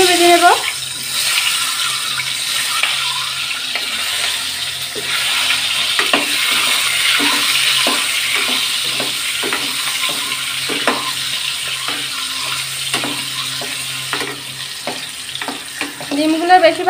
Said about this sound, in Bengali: এর মধ্যে আমি ডিমগুলো ভেজে নেব।